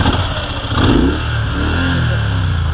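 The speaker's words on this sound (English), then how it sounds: "now we need to rev it." Moto Guzzi Breva 1100 motorcycle engine revved close by, a brief swell of throttle over a steady idle, loud and alone.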